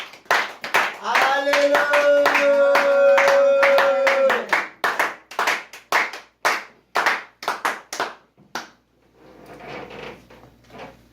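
A church congregation claps in praise of their king over loud singing, then the clapping continues as sharp, uneven bursts with a few voices before fading into quiet room noise.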